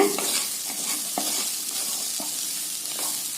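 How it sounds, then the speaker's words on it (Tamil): Grated coconut is stirred into white chickpea sundal in a pan, producing a soft continuous sizzle with intermittent scraping strokes of a ladle, close up and without speech. "தேங்காய் போட்டு ஒரு நிமிஷம் மட்டும் வதக்கி விடுங்க"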